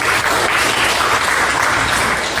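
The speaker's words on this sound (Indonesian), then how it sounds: "Silakan tepuk tangan untuk kita semua." A dense wash of audience applause at a school session, steady and loud throughout with no pauses and no voices standing out.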